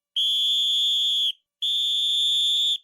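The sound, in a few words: whistle blowing, radio drama sound effect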